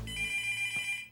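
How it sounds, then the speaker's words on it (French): A telephone rings with a bright, steady electronic ringtone, loud and close, sustained without pause and with no talking over it. "le téléphone, ça sonne"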